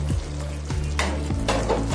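Chopped tomatoes are stirred into a potato and cluster bean curry in a pan, with repeated spoon scrapes and soft clatter in a steady rhythm over a faint sizzle.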